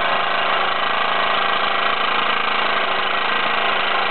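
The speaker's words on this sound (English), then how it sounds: "There you have it, 1960s MLI schools laboratory steam engine." A 1960s MLI school laboratory demonstration steam engine runs steadily with a dense, constant mechanical chugging and hiss, loud and close throughout with no voices.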